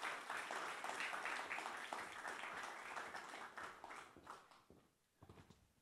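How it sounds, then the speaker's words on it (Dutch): Audience clapping for guests arriving at a university talk show table, a dense burst of applause that gradually thins and trails off into scattered final claps. "volgende gasten geef ze ook een hard applaus"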